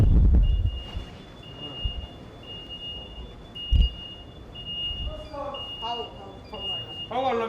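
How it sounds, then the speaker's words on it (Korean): An alarm aboard a training ship sounds as a steady, repeating high electronic beep through busy background noise, with voices speaking over it. "갑자기 들려오는 알람 소리에 분주해지고 있습니다"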